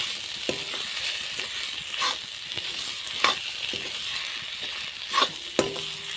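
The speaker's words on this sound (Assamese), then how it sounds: "আৰু অকণমান ভাজিলেই এইখিনি হৈ যাব।" Chopped banana flower fries in a pan with ground cumin, ground coriander and fresh coriander leaves, giving a soft continuous sizzle broken by scattered sharp crackles and several brief stirring scrapes.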